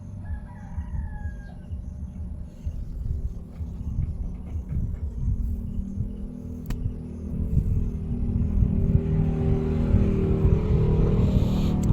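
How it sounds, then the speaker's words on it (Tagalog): A motorcycle engine runs with a steady, low, rumbling idle that grows slightly louder toward the end, while a rooster crows faintly early on. "Paminawa ang motor anak, naghadyong."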